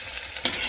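Onions sizzle and crackle in hot oil while being stirred, a close, steady frying hiss with a brief louder burst partway through.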